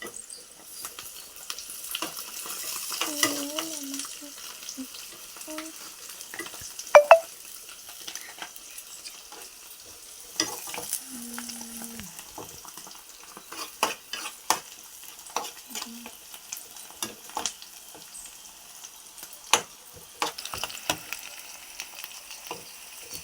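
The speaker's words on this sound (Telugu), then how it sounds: "ఇలా వేగుతున్నాయి కదా, కొంచెం ఇప్పుడిప్పుడే కలర్ చేంజ్ అవుతుంది" Soaked ingredients for gogora chapalu fry quietly in a pan with a faint, steady sizzle. Scattered soft scrapes and taps come from a spoon stirring them, with no talk.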